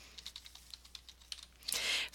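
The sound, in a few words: typing on a computer keyboard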